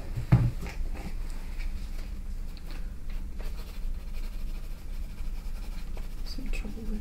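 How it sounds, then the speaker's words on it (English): Pen scratching notes onto paper during a binaural ear exam, close and soft, a steady run of small strokes with a sharp tap near the start. "let me write that down"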